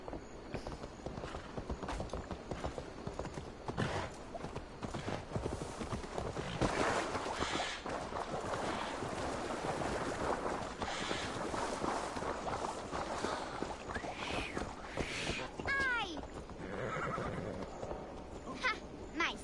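Faint hooves clip-clop amid low background noise in the video game Assassin's Creed Valhalla, with a horse whinnying near the end.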